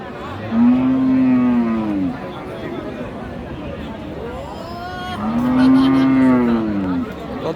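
A cow moos loudly twice, each a long low call, at a busy cattle market in Dinajpur where Sahiwal cows are sold. A murmur of crowd noise runs underneath.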